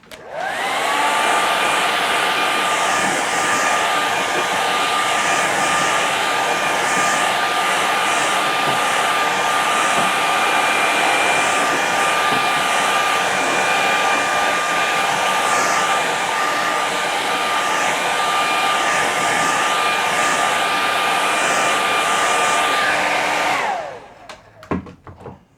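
Hair dryer blowing on a watercolour painting, a loud steady whirring roar with a constant whine that runs unbroken for about twenty-three seconds, then cuts off and winds down.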